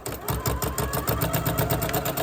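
A sewing machine stitches the end of a quilt binding strip, its needle chattering in a fast, even rhythm of repeated mechanical thumps that run steadily and close up for the whole stretch, with no talking.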